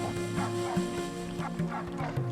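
A human voice imitates a dog in a cartoon moral story, producing a run of short, yelping barks and whimpers in an irregular rhythm, close and fairly loud throughout.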